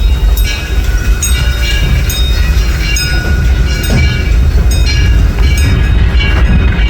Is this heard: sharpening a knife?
no